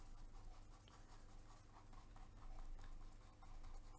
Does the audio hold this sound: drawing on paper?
yes